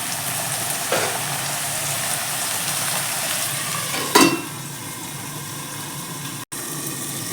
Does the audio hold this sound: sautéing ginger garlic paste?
yes